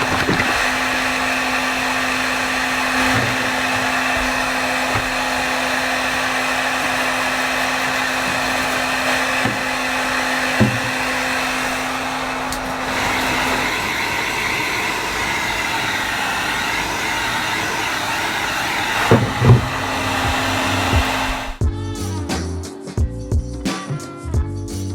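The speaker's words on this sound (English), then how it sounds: "go straight over gently with the hot air gun" A hot air gun blows steadily and loudly while heating adhesive on insulation inside a VW T25 camper van, holding a constant whooshing hum for most of the stretch before ending with a few clunks and knocks.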